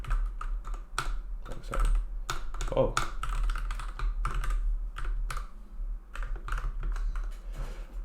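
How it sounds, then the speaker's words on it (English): Python code being typed on a computer keyboard: rapid, irregular clacking keystrokes close by, with a brief spoken apology partway through. "for the character in S, or string, the character in string, I'm going to type out this line"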